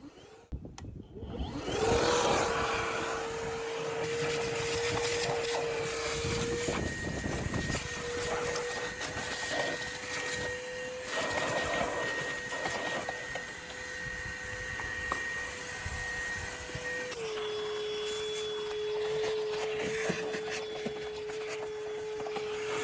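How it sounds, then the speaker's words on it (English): A vacuum cleaner runs steadily for the whole stretch, clearing debris out of a heat pump's outdoor unit, with a continuous loud motor whine that shifts pitch slightly as the nozzle moves and catches material. "we are gonna use our vacuum and get all this crap out of here"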